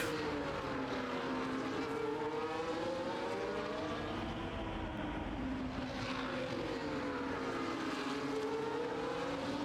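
Race cars at Austin speed down the end of a long straight while overtaking, engines droning loudly and steadily with rising and falling pitch as they pass, no talk.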